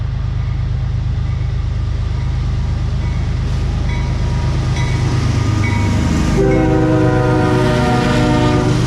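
A train rumbles by close at hand, wheels clattering, then a loud, sustained horn blares over the passing cars.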